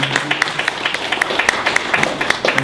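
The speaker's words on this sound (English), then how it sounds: "Let's give Denise Murray a big round of applause." Audience applause at a marketing talk event, a steady wash of many hands clapping with dense, fairly even bursts throughout, moderately loud and with no talking over it.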